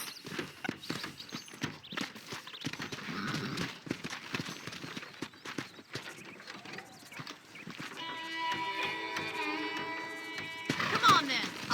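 Rhythmic clip-clop of horse hooves in Red Dead Redemption, steady and fairly close, layered with music and ambient game sounds.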